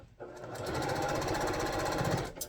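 Sewing machine stitching cotton fabric, a fast steady mechanical whirr and rattle running continuously for a couple of seconds after a brief start, close and alone.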